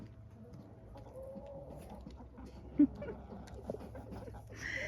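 Backyard hens that fly over an 8-foot fence give soft, scattered clucks at middle distance over a low outdoor hum, with one brief louder squawk near the middle and a voice murmuring faintly.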